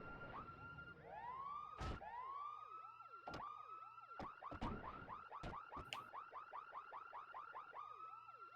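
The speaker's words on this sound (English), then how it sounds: "There's the car alarm again." A car alarm in Pokémon Colosseum cycles through warbling, swooping and chirping tones, steady and continuous with a few sharp clicks mixed in, fairly quiet and without talk.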